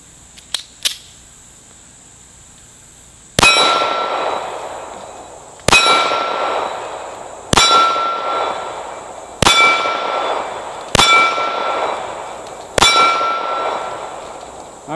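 A Kel-Tec P3AT .380 pocket pistol fires at steel targets about 30 feet away, with six loud evenly spaced shots, each followed by a ringing metallic clang that decays before the next.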